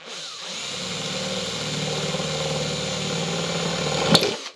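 A power drill drilling into an aluminium window sill whirs steadily and loudly for several seconds, spinning up, holding a constant pitch, then stopping with a brief clack.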